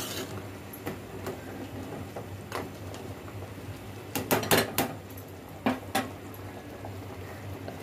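Crab pieces dropped one after another into a pot of boiling curry, making sharp splashes and clatters over a soft bubbling simmer, with a cluster of louder plops midway.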